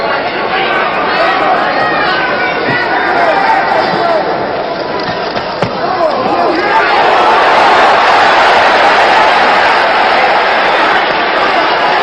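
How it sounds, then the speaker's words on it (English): Boxing crowd at a Jose Napoles versus Clyde Gray world title fight swells into excited cheering as punches land, a loud, distant roar of many voices that builds in the second half under a commentator's talk. "As the crowd gets excited over every Clyde Gray punch thrown."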